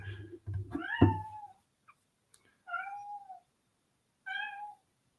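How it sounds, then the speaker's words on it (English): A cat meows three times indoors, each call clear and fairly close, separated by pauses, with a brief low human sound at the start. "Ignore the cat."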